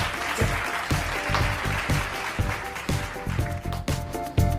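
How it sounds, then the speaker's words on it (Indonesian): Schoolchildren in a second-grade primary school class applauding together, a dense, steady wash of clapping with some louder accents, fairly close. "Mari kita memberi tepuk tangan yang lebih meriah juga anak-anak dua."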